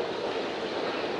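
A Saint Petersburg metro train runs through a deep tunnel with a steady, loud rumbling roar and a faint rhythmic clatter of wheels, continuous throughout with no voices.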